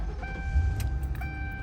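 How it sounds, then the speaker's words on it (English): A 2010 Ford Crown Victoria Police Interceptor starts with a faint, brief low rumble while thin dashboard chime tones ring steadily in the quiet cabin. "Car starts up good."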